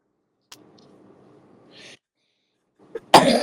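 A single sharp, loud cough bursts out at the very end, following a few seconds of quiet low murmur and a faint hiss.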